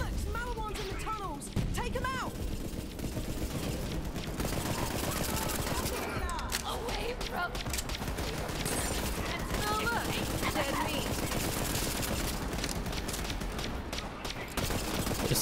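Rapid, dense gunfire from a fast-firing weapon in the shooter video game Borderlands 3, bursts rattling almost continuously over game music and effects, with a player talking at times.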